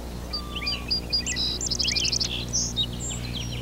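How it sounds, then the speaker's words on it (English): Birds sing in woods and fields just after dawn on a spring day, with several overlapping chirps, trills and whistles at moderate distance over a steady low background hum. "The woods and fields are full of birdsong."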